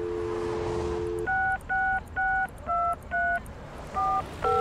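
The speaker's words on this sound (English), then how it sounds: "You pick up the phone and to your delight you get a dial tone." A telephone in the Leisure Suit Larry video game: a steady dial tone for about a second, then a run of eight distinct touch-tone beeps dialed in an even rhythm, clear and close.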